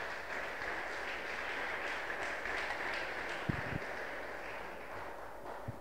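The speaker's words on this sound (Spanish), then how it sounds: "Dale fuerte aplauso al Rey de Reyes," A church congregation claps during a Spanish-language service, a dense, even wash of applause through the whole stretch, fairly distant and uniform, with a couple of brief thumps near the end.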